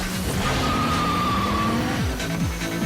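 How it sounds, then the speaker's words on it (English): Race car tires squealing under boost, a high sustained screech layered over a revving engine whose pitch rises and drops in repeated sweeps, loud and close. "When Jesse uses his boost, you can hear his tires squeal"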